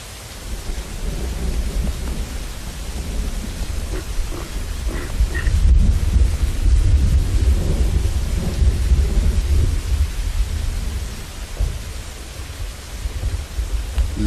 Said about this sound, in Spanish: la lluvia helada en la espalda es solo una extraña sensación nueva a